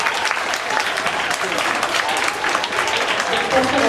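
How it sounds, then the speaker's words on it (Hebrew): Audience applause at an Israeli music conference as music teachers come to the stage, a continuous wash of many hands clapping at a steady level, with some voices mixed in. "תכבדו אותם במחיאות כפיים תרבותיות"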